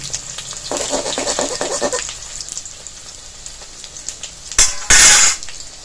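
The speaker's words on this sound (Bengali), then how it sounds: "এবার বড়াগুলো উল্টে দিয়ে আরেক পাশ লাল লাল করে ভেজে নেব" Jute leaf fritters (bora) frying in hot oil, a soft steady sizzle with clinks as they are flipped, then a brief loud hissing burst of spattering oil up close.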